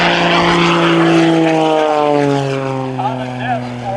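Aerobatic propeller airplane performing a sky-dance routine at the 2023 Cleveland National Air Show, its steady engine drone loud and sustained, pitch slowly falling as it passes, with faint crowd or announcer sounds mixed in.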